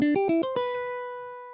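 A guitar plays a quick run of five plucked notes in fast succession, ending on a sustained note that rings out and fades.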